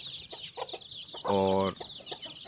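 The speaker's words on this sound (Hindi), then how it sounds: "ये जो मुर्गा है वाइट हीरा" A White Hira aseel rooster lets out one loud, close, tonal call lasting about half a second, set between quieter clucks and low background noise, with a brief word of speech nearby.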